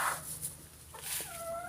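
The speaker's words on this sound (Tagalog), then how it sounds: "Malaking manok din yan." A large chicken clucks softly in short calls near a farmyard nesting spot, with brief tonal notes toward the end and no talking.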